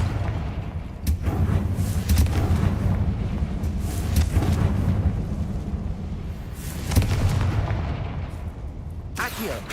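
The Confringo fire spell in Hogwarts Legacy sets off loud, dense rumbling blasts that keep going with a sustained roar and a few sharper booms near the end. The explosions are heavy and close.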